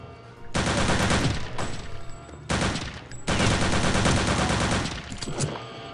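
Gunfire in Return to Castle Wolfenstein comes in long, loud, sustained bursts, with one short break and a brief gap between the later volleys.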